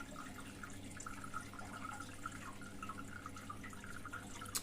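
A washing machine on a hot white wash fills with water at low pressure, giving a steady, close trickle and drip of running water throughout with a constant low hum underneath.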